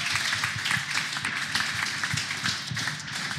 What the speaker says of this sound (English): one more round of applause for everybody here